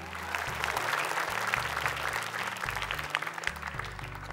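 A studio audience at a children's Quran memorization quiz show applauds the young contestants with dense, sustained clapping over a loud, steady musical bed.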